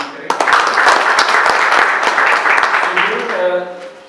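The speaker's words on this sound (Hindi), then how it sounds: "हम चाहते हैं इनका भी तालियों से अभिनंदन करें" Audience applause at a farmers' participation event in Chunar, Mirzapur, honoring a startup founder; steady clapping fills the hall for about four seconds, loud and close, fading slightly at the end with some voices beneath.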